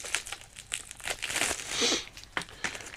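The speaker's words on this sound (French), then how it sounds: "On va déballer ça ensemble." A power strip is unpacked from its packaging, giving close, quiet crinkling and tearing of plastic and cardboard in irregular bursts, with no talking.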